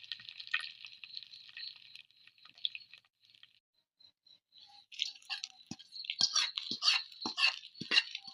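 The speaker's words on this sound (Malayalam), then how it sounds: "അരി വറുത്ത് പൊങ്ങിച്ച് റെഡി ആയിട്ടുണ്ട്" Rice dry-roasts and puffs in a pan for upma: a faint hiss first, then scattered sharp crackles and pops that grow busier toward the end, with no voices.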